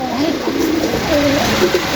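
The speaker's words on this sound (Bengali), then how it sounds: "এক জোড়া আকাশি কালার গোপালগঞ্জের বড় পায়রা কবুতর" A pair of large sky-blue Gopalganj pigeons coos low and steadily at close range, with nobody talking.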